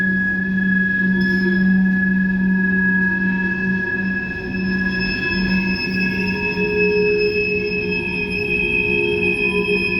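A heritage train running on a railway, with a sustained metallic wheel squeal and steady rolling rumble holding for ten seconds, close and loud, no voices.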